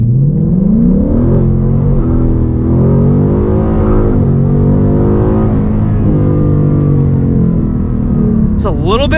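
Car accelerating hard from a standstill to 60 on cold factory tires, wheels spinning: a loud, close engine roar climbs steadily through the gears, with a brief high squeal near the end.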